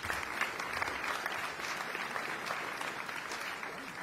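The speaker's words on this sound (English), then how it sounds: "y'all need to be applauded for getting over here" A crowd at an outdoor Jazz in July concert applauds, a faint, steady wash of many hands clapping at a distance that holds evenly for about four seconds, with no talking.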